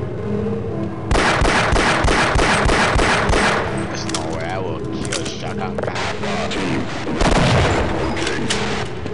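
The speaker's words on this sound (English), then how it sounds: "that guy got a freaking shotgun" Rapid bursts of shotgun gunfire in Half-Life, loud booming blasts in quick clusters with clanking hits, while people talk over the combat.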